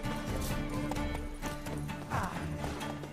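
Rapid clip-clopping hoofbeats of a horse on the move in the video game The Witcher 3, steady and close, with a muffled voice briefly underneath.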